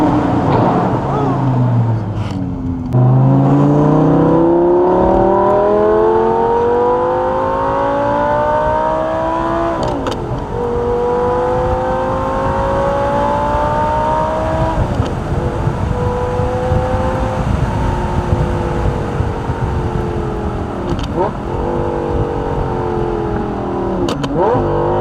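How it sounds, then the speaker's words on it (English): An Audi R8 V10 with gated manual shift and Valvetronic exhaust revs loudly and close up, the engine note sweeping up and down through repeated throttle blips and a long, smooth pull. "Let's see if I can get a burble."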